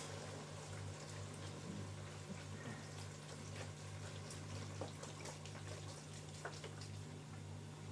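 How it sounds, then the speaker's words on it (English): About three cups of beef broth are poured into a pot of browned bell pepper, onion and garlic for chili, a soft continuous watery pour over a steady low hum, faint and without speech. "Now we're going to add 3 cups of beef broth"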